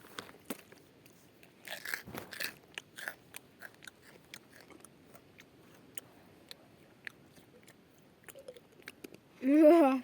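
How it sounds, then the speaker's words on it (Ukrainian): Someone eats crunchy potato chips and dry bread crackers close to the microphone. Sharp crunches and loud chewing come in uneven bursts, and a short voiced sound comes at the end. "Мені самі неприємно чавкать."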